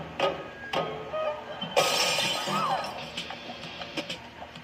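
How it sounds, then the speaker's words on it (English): A vase smashed for good luck at a wedding, a sharp crash of breaking ceramic followed by scattered clinking shards, amid background chatter and a few other knocks. "The maid of honor shatters a vase, and it symbolizes happiness for the bride and groom."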